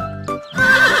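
A cartoon horse in a children's animation gives one short, loud whinny, rising into a bright, shaky neigh after a brief tonal lead-in.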